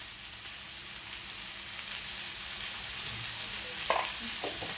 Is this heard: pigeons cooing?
no